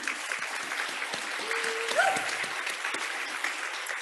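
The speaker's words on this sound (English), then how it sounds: "Let's give them a round of applause." An audience applauds veterans at a Chickasaw Nation Dance Troupe stomp dance presentation: dense, sustained clapping from a crowd, steady throughout, with a short whistle-like tone rising briefly in the middle.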